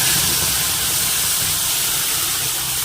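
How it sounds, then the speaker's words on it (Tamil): Ground masala sizzles hard in hot sesame oil with a leaf in the pan, a loud, steady, close hiss that holds the whole time with no voices. "அப்புறம் நம்ம அரைச்சி வச்ச மசாலா போட்டுடலாம்"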